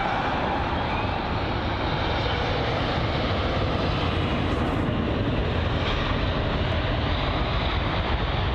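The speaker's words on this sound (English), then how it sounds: "It's the go-around victim, the A350-900, operated by Finnair, arriving from Helsinki." Finnair Airbus A350-900 jet landing at London Heathrow, a steady broadband engine roar holding at even loudness for several seconds with no talk over it.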